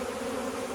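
Honey bees buzzing inside a hive, a dense, continuous low hum of many insects at close range, steady and unbroken throughout with no voices.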